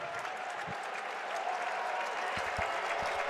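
Michigan fans fill a basketball arena at the United Center during an NCAA tournament game, a steady roar of crowd noise and applause as they rise to their feet, with a few sharp claps and whoops on top.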